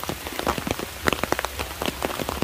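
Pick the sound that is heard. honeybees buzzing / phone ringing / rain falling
rain falling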